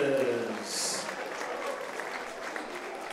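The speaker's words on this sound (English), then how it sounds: "Round of applause for both of our fighters." Audience at a KINGDOM fight event applauding both fighters, a short burst of clapping and crowd noise that fades quickly, with a voice speaking over it.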